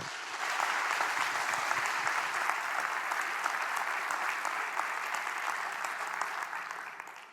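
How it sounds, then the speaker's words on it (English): A TEDxNOVA audience at Nova SBE gives a big final round of applause, a loud, even wash of many hands clapping that holds steady for several seconds before easing slightly. "Please have a huge TEDxNOVA final round of applause for our ultimate speaker of the day"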